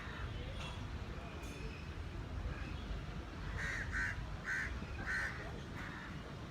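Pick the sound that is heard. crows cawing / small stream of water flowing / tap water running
crows cawing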